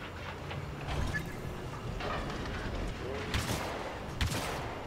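Sporadic blaster fire and combat noise from Star Wars Battlefront II, moderately loud with scattered sharp shots over a rumbling battle background.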